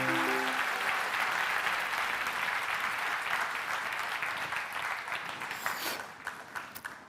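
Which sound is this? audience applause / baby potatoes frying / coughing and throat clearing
audience applause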